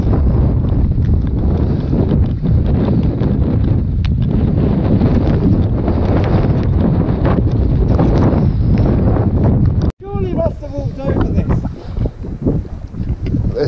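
Strong wind buffets a microphone on a misty Welsh hillside walk, a loud continuous roar that cuts off abruptly near the end as the walkers turn away, leaving quieter rustling afterward.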